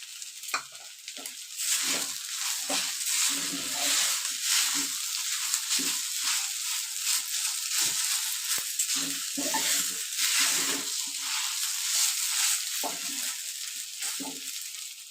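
Sabudana cooking in a pan, heard as a steady hissing sizzle close by with constant rhythmic scraping and stirring strokes throughout, no voices.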